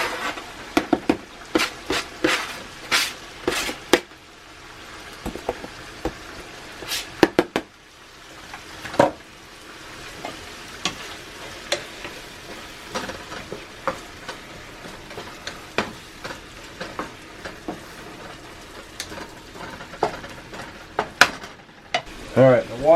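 Chili cooks in a cast iron skillet with frequent stirring scrapes and clinks over a low sizzle, the utensil strokes coming in irregular bursts up close.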